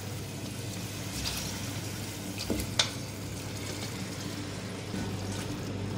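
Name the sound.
beef frying in a pot for yakhni pulao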